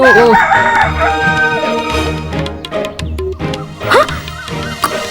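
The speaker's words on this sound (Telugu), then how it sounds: "కోడి అరుపు విన్నారు కదా" A rooster crows loudly and close by, its rising call repeating over a busy, cluttered background with other animal noises.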